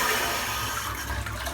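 Running tap water rinses shaving soap out after a lukewarm-water shave, a close, loud, steady rush of flowing water that lasts throughout.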